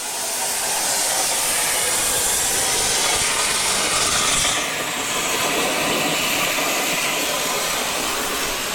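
A plasma table cutting triangle-shaped steel plates gives off a loud, continuous broadband hiss and roar that shifts slightly in tone midway and otherwise runs steadily throughout.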